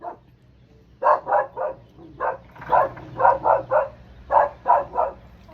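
A dog barks repeatedly in quick bursts of two or three, fairly close, with brief pauses between groups.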